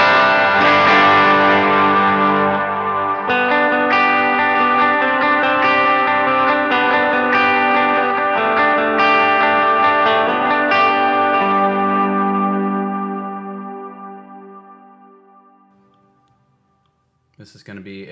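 Electric guitar played through a Strymon Iridium amp modeler using a Deluxe Reverb 1x12 cabinet impulse response, with steady chords and notes ringing under reverb and echo that decay into silence near the end, followed by a brief pick noise.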